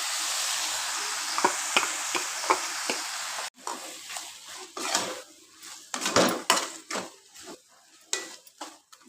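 Onion, tomato and a freshly ground paste are sautéed in a pan for Kumbakonam kadappa. A hissing sizzle comes first, then gives way to a spoon stirring and scraping, with clinks against the metal.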